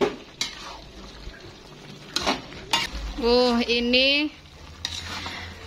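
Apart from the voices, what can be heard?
stirring capcay stir-fry with tomato sauce in a pan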